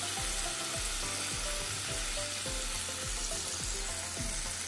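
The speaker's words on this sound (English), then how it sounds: "And we stir it." Garlic lemon salmon in a hot pan, a loud continuous sizzle with a spoon scraping and stirring in a regular rhythm of repeated strokes, close and without talk.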